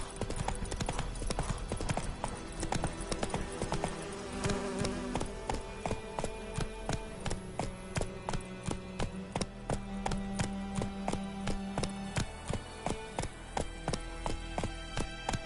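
Horse galloping in The Witcher 3 video game, a steady rhythmic clip-clop of hooves continuing throughout at moderate level with faint game ambience.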